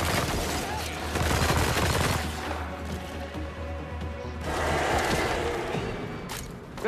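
Sustained bursts of video game gunfire, dense rapid shots mixed with crashes and impacts that swell and fade in waves, loud throughout.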